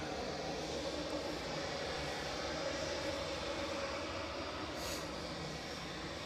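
Qatar Airways Airbus A350 jet at Edinburgh Airport, a steady, broad engine roar holding evenly throughout at moderate distance, with no voices.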